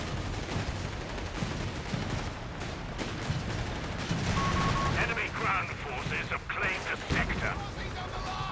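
Artillery shells and gunfire roar without pause through a Company of Heroes 3 4v4 battle, dense booms and crackling bursts stacking under steady, close and loud game noise.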